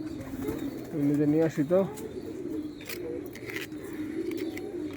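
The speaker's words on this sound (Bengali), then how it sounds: "ভাতগুলো খায় শেষ করে ফেলে 200-র মতো কবুতর।" About 200 pigeons cooing as they finish an afternoon meal of rice on a rooftop, a soft steady murmur that continues under a person talking nearby.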